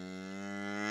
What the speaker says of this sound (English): You're the only dairy cow we've got, right?